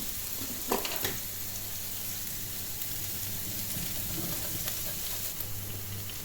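Tomato paste and ginger frying in a pan, a steady close sizzle with a couple of soft clinks near the start.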